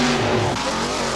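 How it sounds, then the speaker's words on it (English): Class 5 four-wheel-drive trucks racing in a mud pit at a 1990 jamboree in Rockford, Illinois, engines revving loudly and close in a brief burst of roaring acceleration. "over in the mud pit, Class 5 is just getting started"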